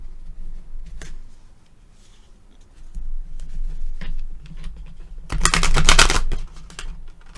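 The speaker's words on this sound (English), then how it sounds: "Okay, I'm going to see how this shuffles." A short, dense riffle of cards being shuffled, about a second long, preceded by a few light taps and handling noises.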